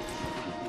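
Horse hooves clip-clop on a trail in Red Dead Redemption 2, a steady close rhythm of several hoofbeats with a faint whinny-like tone and a little background noise.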